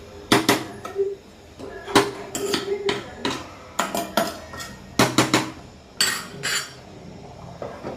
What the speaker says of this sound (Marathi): आता आपण हा छान व्यवस्थित फिरवून घेत आहोत.